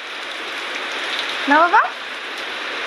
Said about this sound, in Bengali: আর সবাই দেখো বৃষ্টি কমছেই না